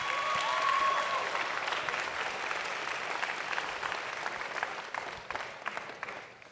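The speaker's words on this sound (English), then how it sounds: "Big round of applause for them." Crowd applauding at a FIRST Tech Challenge robotics competition as a team comes up, dense steady clapping that peaks early and slowly tapers over several seconds.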